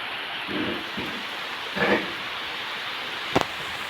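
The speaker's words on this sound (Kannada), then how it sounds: "ಲೈಟಾಗಿ ಬರ್ತಾ ಉಂಟು ಮಳೆ" Light rain falls as a faint, steady hiss, with a couple of soft muffled rumbles and a brief sharp tap near the end.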